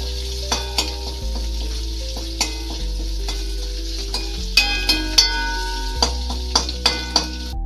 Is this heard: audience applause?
no